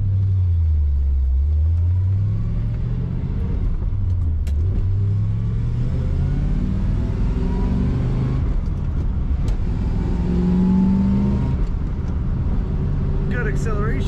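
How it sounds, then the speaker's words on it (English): A 1971 Chevrolet Corvette coupe with a 4-speed manual accelerates hard, its V8 rising in pitch through the gears with a deep rumbling exhaust, heard loud from inside the car while a voice talks over it. "Good acceleration in this Corvette"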